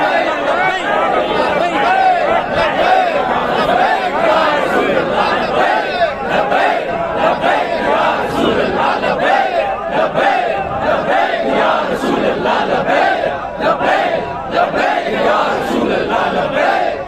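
A large crowd at a religious gathering chants slogans live in loud, continuous unison, with many voices overlapping and no pauses throughout.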